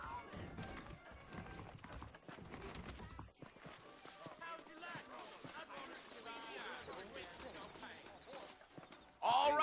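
Horses gallop in Red Dead Redemption, hoofbeats drumming in a fast rhythm at moderate distance under music and game noise, with a brief break partway through before a louder burst at the end.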